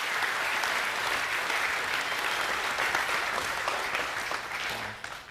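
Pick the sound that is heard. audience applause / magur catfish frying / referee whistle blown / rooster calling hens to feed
audience applause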